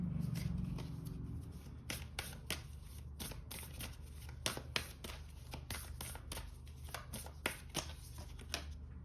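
Tarot cards being handled and drawn from a deck, a series of crisp close flicks and riffling snaps in irregular bursts against a quiet room.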